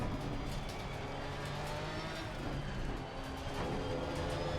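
Porsche 992 race car engine in the Assetto Corsa Competizione racing game at Barcelona, a loud, steady high-revving drone near the end of a straight before hard braking, with no talk.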